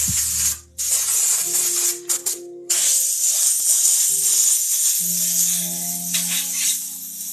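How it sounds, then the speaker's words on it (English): Clogged airbrush spraying paint on hats, a loud sputtering hiss that cuts in and out in uneven bursts before running steadily, with faint tonal hums underneath. "My airbrush is messing up. Had to clog and everything."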